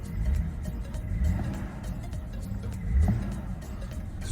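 A BMW 530i E60 Phase 2 with the N53 engine and Steptronic automatic, heard as a low, close engine rumble that swells twice as it revs, with no talking.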